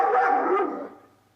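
A single loud, close dog bark rings out and fades quickly into silence, with no talking.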